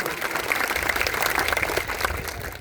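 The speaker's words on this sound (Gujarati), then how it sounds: "એવા કાજલબેન સુવા માટે પણ એકવાર જોરદાર તાળીઓ થઈ જાય મિત્રો." Sustained crowd applause at an outdoor farmers' rally, a dense steady patter of many hands clapping at moderate distance for the full length, with no clear voices on top.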